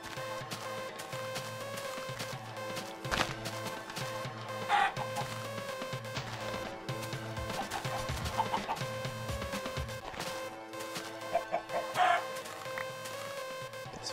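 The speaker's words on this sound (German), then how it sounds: "Da ist noch ein Huhn." Chickens cluck repeatedly in the video game Minecraft, mixed with game sounds and occasional short bursts.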